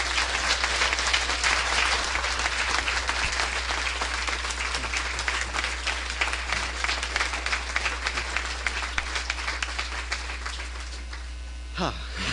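An audience at a Harvard Divinity School event applauds steadily to welcome the new dean, David Hempton. The dense, even clapping fills the hall without a break, with a low mains hum beneath it, and dies away at the end.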